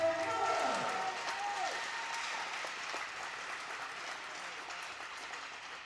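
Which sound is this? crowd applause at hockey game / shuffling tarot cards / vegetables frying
crowd applause at hockey game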